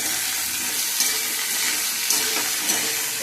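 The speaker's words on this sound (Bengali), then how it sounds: "বেগুনগুলো ভেজে নিই" Brinjal and radish frying in hot oil give a steady, dense sizzle with soft crackles and a few brief clinks from stirring, loud and close with no voices.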